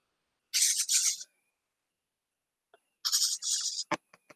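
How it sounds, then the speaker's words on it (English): Birds call in short hissy bursts, two paired screechy calls separated by a silent gap, followed by a few faint clicks, heard clearly against an otherwise quiet background. "It's basically birds chirping."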